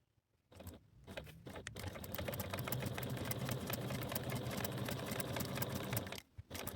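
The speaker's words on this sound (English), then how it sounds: "take to the machine, and top stitch at a 1/8 seam allowance from the folded edge" A sewing machine top stitches faux leather for a notebook cover, starting with a few slow stitches, then running in a steady fast mechanical chatter close by and stopping briefly near the end, with no voices.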